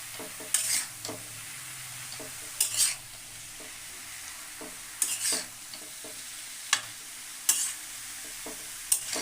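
Cabbage cooks in a pan with phesa fish, a quiet low sizzle punctuated by about half a dozen sharp metal spatula scrapes at irregular intervals as the mixture is stirred.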